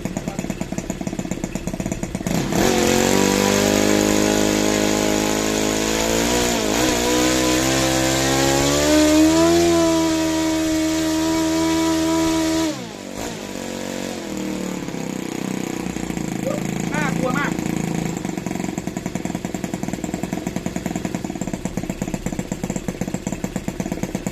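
A motorcycle fitted with an OS155p pressure unit in place of its fuel pump revs hard. The engine whine climbs steadily to a high, screaming pitch, holds there, then drops back to a rough idle, loud and close throughout.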